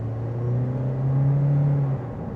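A 2025 Toyota Corolla Cross Hybrid Nightshade accelerating up to speed, a steady low engine hum rising slightly in pitch then easing, heard from inside the cabin, no talking.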